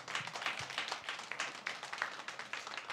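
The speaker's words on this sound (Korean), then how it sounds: "여러분의 박수 쳐주고 싶어요." A church congregation claps during a sermon, a dense, steady patter of many hands that carries on evenly for a few seconds with no voices over it.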